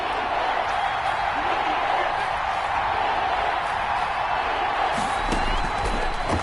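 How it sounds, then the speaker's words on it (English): Crowd noise from a PS4 football video game builds into a steady roar of cheering at a stadium ahead of a big third down, loud and continuous throughout, with a sharper burst near the end. "The crowd getting into it as we come up on a big 3rd down."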